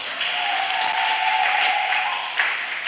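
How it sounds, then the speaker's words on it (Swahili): A church congregation at a fellowship gathering in Tanga claps together as a dense, continuous wash of applause, loud and close, over a sustained musical tone. "Pigia Yesu makofi mazuri kabisa."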